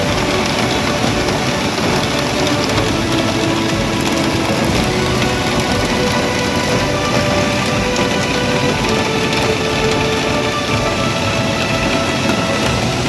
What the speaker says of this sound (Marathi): मुंबई शहरामध्ये मुसळधार पावसाने हजेरी लावलेली दिसून येत आहे।